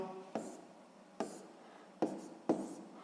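Pen strokes on paper during a 6th-grade maths exercise: four short scratchy bursts spaced unevenly, close and quiet.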